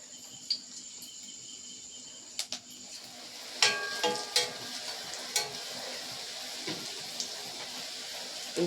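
Raw banana pakora batter sizzles in hot oil, a soft steady frying hiss with occasional sharper crackles and spatters, fairly quiet and free of talk.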